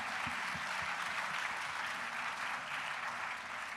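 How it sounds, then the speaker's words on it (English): Audience at a COP27 leaders' panel session applauds in a dense, continuous burst of many hands clapping, filling the room at a steady loudness for the few seconds. "Give the panel a big applause so we warm up a bit, huh?"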